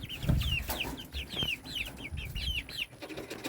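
Young Sapphire Gem chicks, a cross of a blue Plymouth Rock rooster and a barred Plymouth Rock hen, peep and cluck close up in a rapid series of high chirps over faint rustling.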